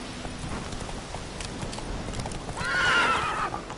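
Roach, a horse in The Witcher 3 on PlayStation 4 Pro, gallops with a steady clip-clop of hooves, then gives a loud whinny near the end.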